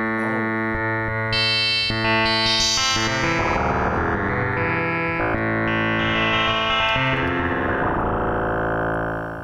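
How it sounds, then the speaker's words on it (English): A Waldorf Blofeld synthesizer plays its factory sine-wave patch, producing loud, sustained, buzzy tones that shift in pitch and layer into chords for several seconds, with no talking. "that's just a sine wave from the factory"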